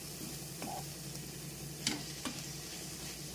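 Moringa leaves fry quietly in oil with a low, steady sizzle close by, broken by a few faint ticks and spoon taps.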